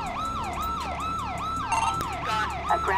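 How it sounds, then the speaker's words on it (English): A police car siren in the video game GTA 5, a rapid repeating wail sweeping up and down in fast cycles, loud and steady, with a few short clicks and extra tones near the end. "Is it my partner that left the siren on?"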